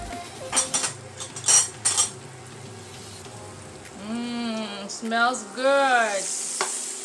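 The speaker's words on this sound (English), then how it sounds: "So we're just gonna sear it all sides, so we can get that brown color that we want" Beef pot roast sears loudly in a hot pan with potato, carrots and onions, giving a strong steady sizzle with clinking and stirring scrapes, while a person talks briefly over it partway through.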